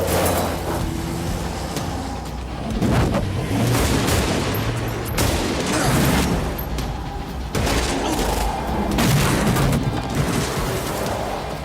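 Sustained automatic rifle fire and booming shots from the street shootout in the film Heat, rapid bursts rolling in waves with echoing reports and no break in the barrage.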